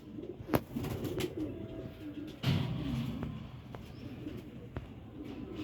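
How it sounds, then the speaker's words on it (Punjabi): Soft pigeon cooing in the background, with a few sharp clicks and flutters nearby and faint murmuring. "ਇਹ ਲਾ ਜੀ ਹਾਂ ਛੱਡ ਦੇ ਕਬੂਤਰ"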